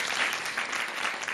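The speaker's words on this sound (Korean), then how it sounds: "이렇게 박수 좀 쳐주세요." Applause from a studio audience at a Korean Buddhist television talk show featuring a pansori singer, a dense steady clapping that fills the whole short moment with no voices over it.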